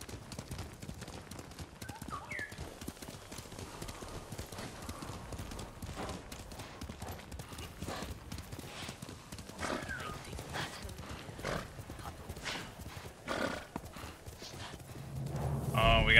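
Horse hooves clip-clopping steadily in the samurai video game Ghost of Tsushima, a continuous rhythmic patter under game ambience, with a brief whinny and a louder burst near the end.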